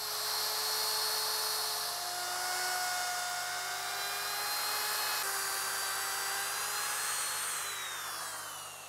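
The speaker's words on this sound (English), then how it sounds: "Now I'm going to use a router" A power router cuts along the edge of a timber bench seat, a loud, high-pitched steady whine with slight pitch shifts as it moves along the wood, heard close and uninterrupted.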